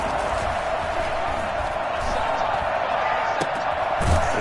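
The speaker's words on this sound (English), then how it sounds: "The crowd getting into it as we come up on a big 3rd down." A stadium crowd at an American football game roars in a loud, sustained wash of cheering ahead of a big third down, while a commentator talks over it.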